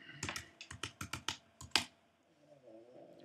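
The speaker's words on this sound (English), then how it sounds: "Type in your password." A computer keyboard is typed on in a quick run of about a dozen crisp, close key clicks, then a short quiet tail with faint background hum.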